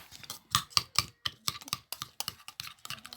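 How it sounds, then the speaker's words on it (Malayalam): Eggs and chopped onion beaten in a bowl, a quick series of sharp, close tapping clicks in an uneven rhythm, with no talking. "ഇനി നമുക്കിത് കലക്കാം"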